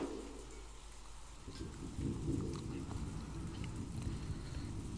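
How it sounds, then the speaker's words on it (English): Thunder and rain sound effect from the Umineko visual novel: steady, faint rainfall with a low rumble of thunder swelling in the middle, distant and muffled throughout. "At that time, the sound of thunder rang out, giving the illusion that lightning had accepted the ring."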